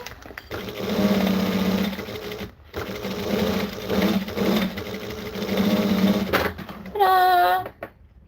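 A sewing machine runs in several bursts of rapid stitching while sewing a drink bottle onto base stabilizer, loud and close, with short pauses between runs and a brief whirring squeal near the end.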